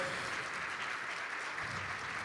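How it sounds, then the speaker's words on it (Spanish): Applause from an audience at a public lecture on fiscal policy in Resistencia, a steady broadband wash of many hands clapping that fills the short moment without pause, with no talk over it. "Fuertes los aplausos para Marina del Poyeto"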